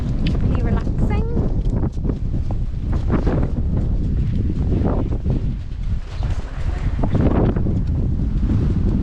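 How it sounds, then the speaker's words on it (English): Strong wind buffets the microphone outdoors in snowy Lapland, a loud continuous low roar with gusty surges that nearly swamps a person talking throughout. "I'm not sure you can hear me because it is windy."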